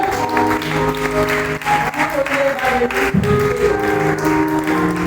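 Church congregation at a Sunday worship service applauding the Lord, steady loud clapping throughout with a crowd murmur and sustained music tones underneath.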